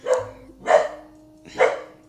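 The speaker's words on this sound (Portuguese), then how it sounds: "À noite meus cachorros ficam enlouquecidos e latindo pra tudo quanto é coisa que eles veem, sentem." Pet dogs bark at night at home: three sharp, evenly spaced barks, close and fairly loud, with no talk over them.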